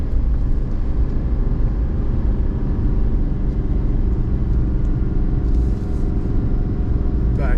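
A 2024 GMC Sierra 2500 Denali Ultimate 4x4 heavy-duty pickup with a 470-horsepower engine hauls a trailer up a steep, curvy road, producing a steady, loud low engine and road rumble throughout.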